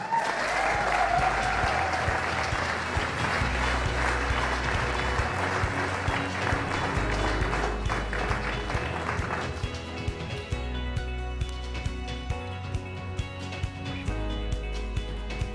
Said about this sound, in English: a big round of applause for Catherine Pearson